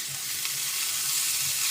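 Carrots and peas frying in oil in a pan for fried rice, a steady soft sizzle with faint stirring, close and continuous with no talking.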